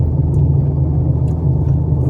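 A car drives along a road, heard from inside as a steady low engine drone and road rumble, loud and constant with faint brief ticks above it and no talking.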